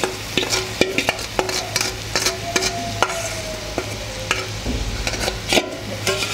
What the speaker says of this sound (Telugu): మనం ఇప్పుడు ఏంటంటే చికెన్ని నెయ్యిలో వండుతున్నాము